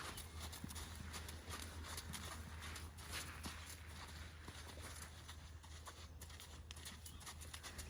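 Horse named Ginny cantering on the left lead in an arena, with soft rhythmic hoof beats and clip-clop steady throughout under broad background noise, no talking.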